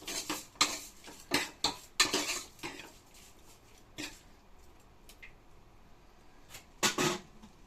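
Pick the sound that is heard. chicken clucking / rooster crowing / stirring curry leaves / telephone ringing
stirring curry leaves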